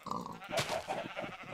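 A sheep in the block-building video game IndieCraft gives a short, wavering bleat at moderate volume amid light game background sound.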